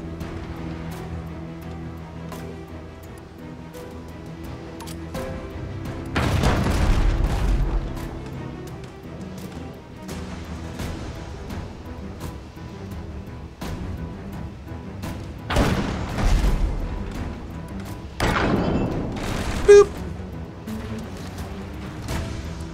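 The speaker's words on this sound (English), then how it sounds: "Keep firing your Chain Shot until the enemy mass section is damaged into the red." Ship cannons firing chain shot in the Abandon Ship naval video game: several deep, heavy booms spaced several seconds apart over a steady ambient music and sea bed, each blast rumbling and fading.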